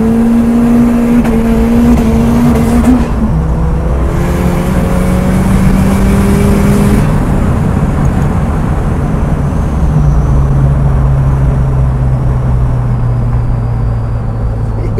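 A car drives hard and revs loud and close, the engine note rising, dropping with gear changes and climbing again throughout; no talk is heard.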